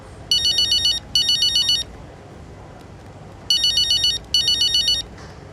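A ringing phone in the F1 25 racing game: four electronic ringtone bursts in two pairs, each pair of rapid trilling chirps, loud and close over a low, quiet background hum.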